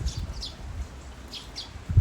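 Birds give short high calls, several in quick succession, at a nursery. Soft rustling and low outdoor noise run beneath the calls, which sound moderately distant.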